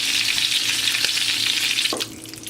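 Meat and vegetables for Cuban rabo encendido sizzle loudly in a pot, with steady close frying hiss and a few stirring scrapes, easing slightly near the end.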